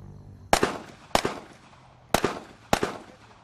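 Four sharp handgun shots ring out at a steady pace in two pairs on a firing range, loud and close, each one trailing a brief echo.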